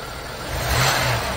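A 1986 Oldsmobile 98 Regency Brougham engine runs with a steady broadband rumble and whir that swells slightly midway, heard up close for a brief moment.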